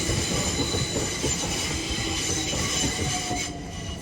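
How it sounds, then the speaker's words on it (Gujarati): A train rolls past nearby with a loud, steady rumble of wheels on rails, high squeals and faint clickety-clack, easing off slightly toward the end, with no talking. "સોરી આ ટ્રેનના અવાજમાં છે ને સંભળાય નહીં"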